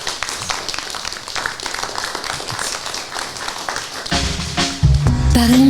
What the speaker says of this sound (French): Je pense qu'il mérite quelques applaudissements.